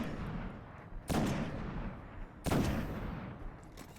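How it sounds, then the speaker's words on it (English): Two heavy sniper rifle shots in the video game Destiny, each a sharp loud crack with a long rolling decay, spaced about a second and a half apart, under a low steady background. "For the purpose of this video, I'll start sniping down, you know, to speed things up a little bit."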